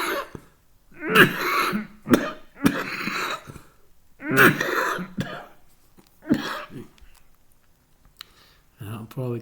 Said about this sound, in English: I'm probably coughing too much to talk much longer.